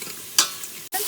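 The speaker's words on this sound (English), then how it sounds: "Let it saute for 1 minute and keep stirring." Dal tadka ingredients sauté in an Instant Pot, with a close, steady hiss of frying and one brief bright scrape of a stirring spoon.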